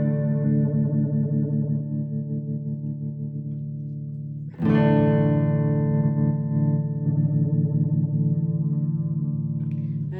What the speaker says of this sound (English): shortening the tap temp, speeding up the time will shorten the tails of the reverb